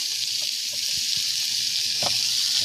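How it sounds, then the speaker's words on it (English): Chicken pieces searing in plain olive oil in a hot pan give a steady, close sizzling hiss with a few soft pops and stirring taps. "And I'm going to sear these up."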